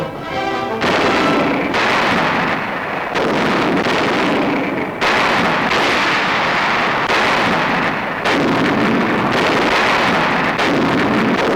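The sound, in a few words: artillery barrage firing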